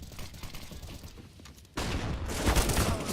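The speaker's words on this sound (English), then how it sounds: "All kinds of grenades coming their way." Grenades going off in a professional Counter-Strike match: a sudden loud, dense burst of blasts and crackling, following quieter game noise.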